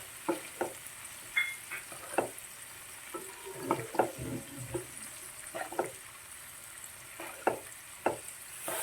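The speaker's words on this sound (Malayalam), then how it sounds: "ഇതിനകത്ത് ഓയിൽ നമ്മൾക്ക് ഈ മീനിൻ്റെ മുകളിലേക്ക് നമുക്കൊന്ന് ഒഴിച്ചു കൊടുക്കാം." Fish frying in oil for meen pollichathu, with oil poured over it, gives a steady low sizzle under a run of sharp clicks and scrapes from a utensil stirring and tapping in the pan.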